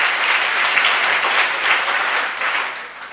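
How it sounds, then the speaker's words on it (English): Dense audience applause at an academic careers fair and exhibition ceremony, many hands clapping steadily and loudly for a few seconds before tapering slightly. "A hand clap for your presence here."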